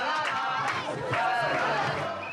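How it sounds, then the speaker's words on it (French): A crowd of Réunionnais in Saint-Denis cheers and shouts for the Payet family. The sound is a dense, continuous roar of many voices with occasional louder cries, held at steady volume throughout. "À Saint-Denis, toute la famille Payet est acclamée par la foule."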